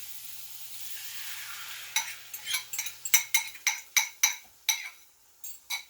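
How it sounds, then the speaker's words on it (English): Quiet frying sizzle of sausage and eggs in a pan, followed by a quick series of sharp clinks and scrapes as a utensil stirs the food. "the sausage has a good start on getting hot. I'm going to add in the eggs"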